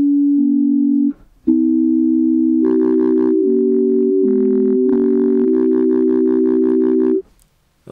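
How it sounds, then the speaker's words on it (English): A basic chapel organ patch on Reaper's default ReaSynth synthesizer, detuned by minus 50 cents, plays sustained electronic organ tones that shift in pitch across several held notes, with a brief gap early on and a cutoff near the end. "There's my basic chapel organ sound"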